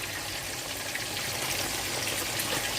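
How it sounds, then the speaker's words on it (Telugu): Water poured into a pan of fish curry (gaddi chepa iguru), a steady close rush of liquid running without break and with no talk. "ఇప్పుడు కొంచెం వాటర్ వేసుకుని ఎక్కువ వద్దండి ఇగురు కదా కొంచెం వేసుకుందాం వాటర్"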